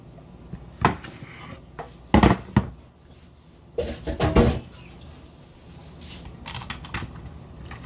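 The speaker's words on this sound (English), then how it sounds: "I'm going to transfer my tail into this pan." A lobster tail being moved into a pan, heard as a handful of scattered clunks and scrapes of metal and shell, some close and sharp, with quiet gaps between them.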